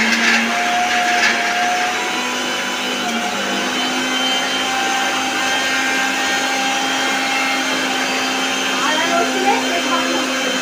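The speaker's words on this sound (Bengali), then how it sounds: "আমার মিসেস এখন মিক্সিতে এই যে আদা রসুনের পেস্ট কি করবে বানিয়ে নেবে মিক্সিতে দিয়ে দেবে, মিক্সি করছে এখন" Electric mixer grinder whirring steadily as it grinds ginger and garlic into paste, a loud, continuous motor drone close by with no break throughout.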